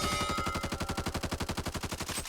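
An M4 carbine in the zombie shooter game Back 4 Blood fires a rapid, steady full-auto burst of about twenty-five evenly spaced shots, close and loud, with no talking.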